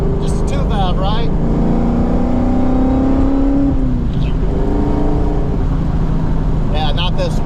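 A New Edge Mustang GT with a Coyote engine swap runs as it drives along, a steady loud engine and road drone with a shift in pitch partway through. Brief bursts of speech cut in at the start and end.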